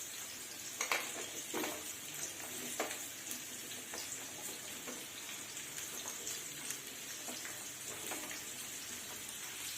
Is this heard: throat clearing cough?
no